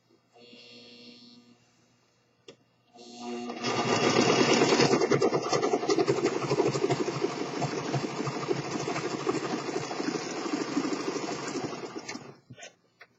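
Singer Professional Pro 5 serger stitching with its upper looper raised all the way, a steady dense mechanical whir running for about nine seconds after a brief quieter hum, then stopping.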